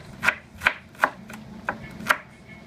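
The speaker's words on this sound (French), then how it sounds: "Le blanc de poireau se traite essentiellement de la même façon que l'oignon pour hacher." Knife chopping leek white on a cutting board, five crisp, evenly spaced taps at a relaxed pace, close and fairly quiet with a faint background hum.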